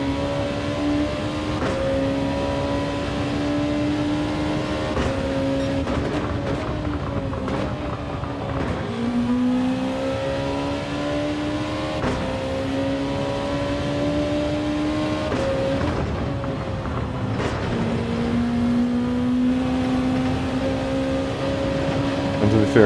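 Distant street-racing cars rev and drone through a city evening, the engine tones rising and falling in long sweeping pitches that repeat several times, steady and continuous with no talk.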